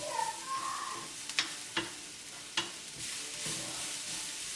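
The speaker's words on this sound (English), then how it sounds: "Keep stirring everything." Leeks frying in oil in a pan and being stirred, a soft continuous sizzle broken by a few distinct scrapes and knocks of the utensil, close by with no talking.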